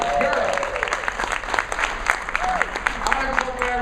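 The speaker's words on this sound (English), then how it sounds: "Give her a round of applause." Audience applause fills a speaking event, a dense steady patter of clapping with a voice briefly audible over it.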